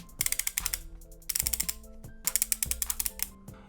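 Sharp ratcheting clicks from the adjustment knob on an Oculus Quest Halo strap, coming in three quick bursts of crisp, close, repeated clicks separated by brief pauses.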